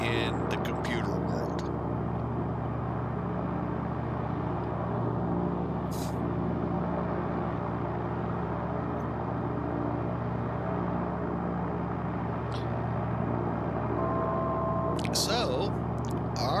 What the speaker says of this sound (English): if that engine noise is too much for you